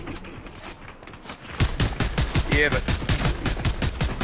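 Rapid automatic gunfire in a shooter video game, a steady burst of close, loud shots lasting several seconds, with a voice briefly speaking just before the firing starts.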